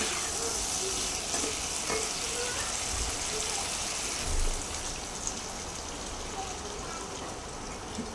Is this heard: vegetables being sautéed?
yes